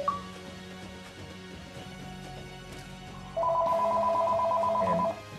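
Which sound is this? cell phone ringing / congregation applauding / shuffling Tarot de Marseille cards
cell phone ringing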